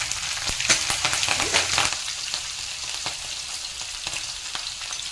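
Cumin and green chilies hit hot oil for a Maharashtrian dal khichdi, giving a loud, steady hiss and crackle close up, with a burst of spattering early on that then settles into an even sizzle, no voices.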